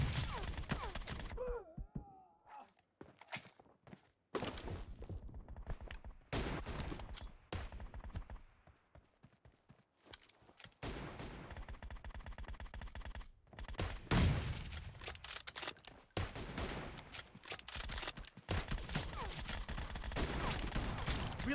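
Bursts of video game gunfire come in uneven volleys separated by quiet gaps, with sharp close shots and a voice shouting now and then between them.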